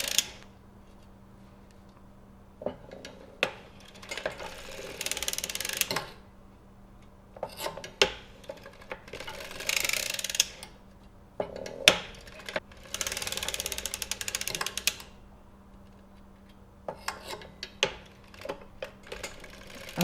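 A hand-cranked circular sock knitting machine ratchets and clicks through bursts of cranking, with a faint steady hum under the mechanism and short quiet gaps between rounds.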